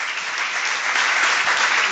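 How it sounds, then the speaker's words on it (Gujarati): An audience at a devotional kirtan gathering breaks into sustained applause. The steady, dense clapping stays fairly loud and even throughout, with no voices over it. "ત્રણેયને એકવાર જોરદાર તાળીઓથી વધાવો"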